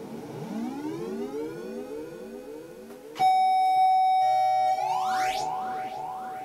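A circuit-bent three-tone chime doorbell oscillates in repeated rising electronic sweeps, then jumps to a loud steady tone partway through before bending upward again, with no one talking.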